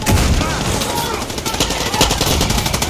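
Far Cry 6 combat: continuous loud gunfire with rapid overlapping shots and a dense, crackling wash of battle noise throughout the short stretch.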